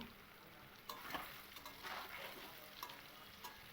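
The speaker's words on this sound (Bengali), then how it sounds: "এবার এই পনিরগুলোকে আমি একটু উল্টে পাল্টে একটু লালচে কালার করে পনিরগুলোকে ভেজে নেব" Paneer cubes frying in a pan, turned with a spatula so they brown: a steady low sizzle under a few soft scraping and stirring strokes, fairly quiet and close, no talk.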